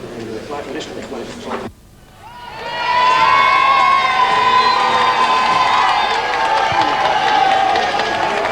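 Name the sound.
flag-waving crowds cheering the Queen in Paisley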